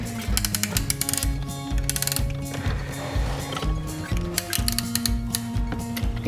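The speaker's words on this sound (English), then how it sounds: "Now I'm putting it in the ring compressor and I'm compressing it." A piston ring compressor is ratcheted tight around a piston during assembly of a 200 straight-six engine. Rapid metallic ratchet clicks come in close, busy bursts throughout, alongside other tool and mechanism noises.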